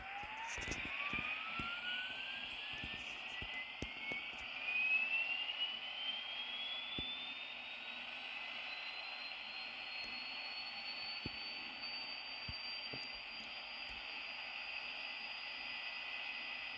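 A steady electrical dynamo whine from a model AD60 locomotive that rises in pitch over several seconds, then holds a high, even hum, with faint clicks and mechanical noise underneath.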